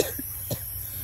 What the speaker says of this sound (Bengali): কথা বলছি তবুও কাশি হচ্ছে